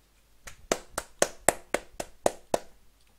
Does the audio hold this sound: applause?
yes